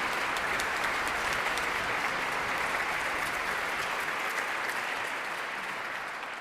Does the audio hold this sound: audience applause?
yes